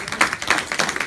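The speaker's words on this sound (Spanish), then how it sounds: "Denle un aplauso al Señor" A church congregation claps together in a brief, dense burst of rhythmic applause, moderately loud and nearby.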